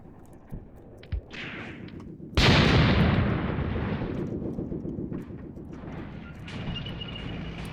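Tank gunfire in a WWII tank video game set in Tunisia in 1943: scattered distant thumps, then one loud close cannon blast with a long rumbling decay, followed by further faint pops.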